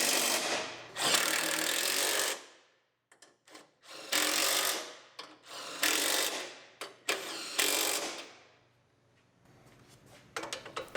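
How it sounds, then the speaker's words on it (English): Bolts on the front strut and suspension of a 2019 Ford Explorer are run down with a power tool in several loud, close bursts of whirring and ratcheting, separated by short pauses and lighter clicks. "Tighten it all down."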